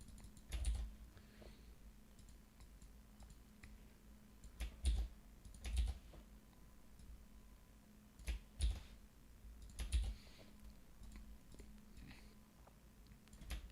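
Typing on a computer keyboard, a sparse string of soft key taps and a few louder clicks spread across the stretch, close and quiet with no talk.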